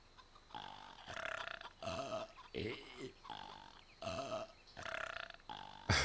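A game character in Fable Anniversary lets out a series of loud, drawn-out burps, about five or six coarse belches with short pauses between them.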